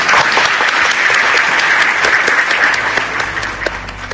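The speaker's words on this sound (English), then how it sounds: "Please join me in giving a huge round of applause to Prof." Audience applause at the close of a roundtable discussion, a dense, steady clapping from a full room that holds loud and even throughout, easing slightly near the end.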